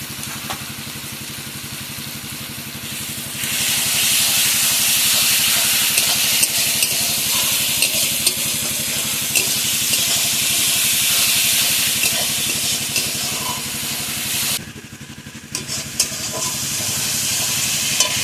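Ginger-garlic paste and spices sautéing in a hot pan for a spicy crab curry: a steady, loud sizzle with stirring scrapes, broken by a short quieter dip near the end before the frying noise resumes.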